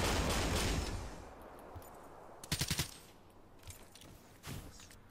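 Black Ops 3 Search and Destroy gunfire, mostly faint and distant: a quick three-shot burst in the middle and a single later shot over a low background rumble.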